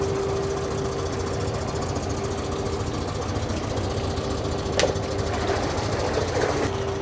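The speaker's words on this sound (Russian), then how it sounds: "и мотор работает хорошо" A repaired Chinese-made Yamaha outboard motor running, a steady close mechanical drone with a rapid even knocking pulse and a constant tonal whine, briefly punctuated by a sharp click.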